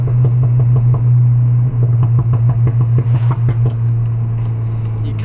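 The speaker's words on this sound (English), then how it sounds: "you can't not do the pops" Exhaust of a car running an iE Stage 1 Pro tune, a loud low engine drone punctuated by a rapid series of sharp pops and crackles through the middle of the clip.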